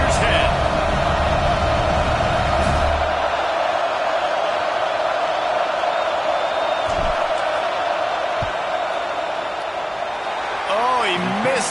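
Football stadium crowd roars with a steady, dense wash of noise during a field goal attempt, loud and sustained across the whole stretch, with a commentator's voice faintly over it at times.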